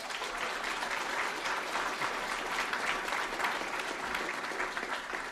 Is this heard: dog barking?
no